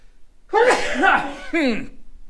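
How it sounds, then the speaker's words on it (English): One loud, close sneeze with a sharp intake of breath, followed by a quick second burst. "Hang on, I got to sneeze."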